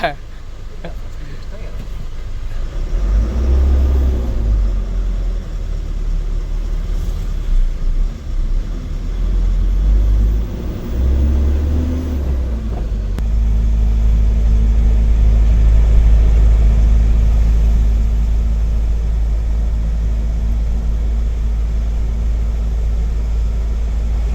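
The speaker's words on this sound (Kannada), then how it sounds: "ಇವಾಗ ಸ್ಟಾರ್ಟ್ ಮಾಡಿದ್ರು ಗಾಡಿನ ಯಾಕಣ್ಣ ರಿವರ್ಸ್ ಗೇರ್ ಹಾಕ್ತೀರಾ" A loaded truck's engine starts and settles into a deep, steady rumble nearby, running continuously under ongoing conversation.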